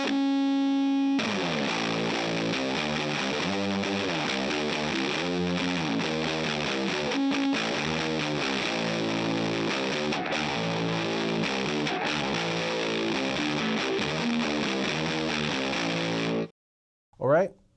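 Electric guitar run through a ProCo RAT distortion pedal with the gain backed off slightly: a single sustained note, then fuzzy, saturated chords ringing continuously and loudly before cutting off abruptly, followed by a brief final strum.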